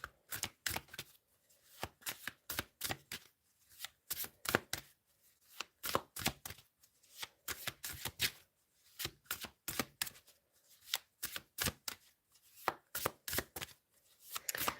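Tarot cards shuffled by hand in repeated quick riffles and taps, a crisp uneven rhythm of short bursts with brief pauses, close and fairly quiet, no talking.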